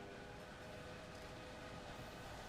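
Steady rumble of a train running along the track in the Railway Empire game, a continuous even roll with a faint tonal hum, no pauses and no voices.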